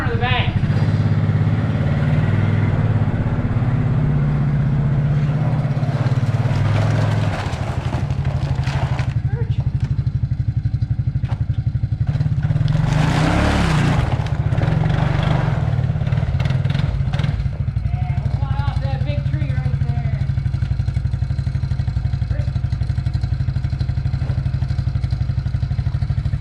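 A Suzuki King Quad ATV engine drones loud and close as the machine climbs the corner of a bank, with revving that rises and falls, some clattering, and people's voices heard over the engine noise.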